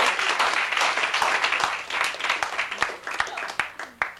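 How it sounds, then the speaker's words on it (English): An audience bursts into dense applause that loosens into scattered separate claps as it fades, heard close and fairly loud. "So I think we should just give them an applause."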